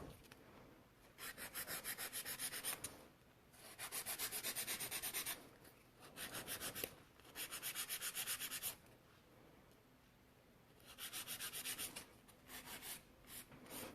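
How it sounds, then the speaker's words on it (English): A hand nail file scrapes along the side walls of sculpted stiletto gel nails in several close, steady bursts of rhythmic rasping, separated by short pauses. "I will do just like a side walls with my file first"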